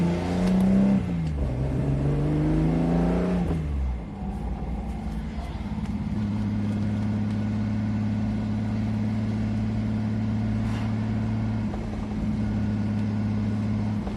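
A Datsun car driving, its engine droning steadily with a revving rise and fall early on, then settling into a constant close hum.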